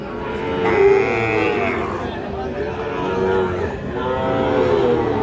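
A Sahiwal bull calf at a cattle market lets out long, drawn-out moos close by, one after another, with faint crowd murmur in the background.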